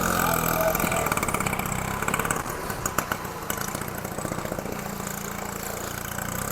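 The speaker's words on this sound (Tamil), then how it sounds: "இதுக்குள்ள ஆட்டோ ஒரு போகுது, கொஞ்சம் ஆழம் கூட தான்" An auto rickshaw's engine drones steadily while it drives through deep flood water in the streets of Jaffna, a busy mid-pitched motor sound that stays close and continuous throughout.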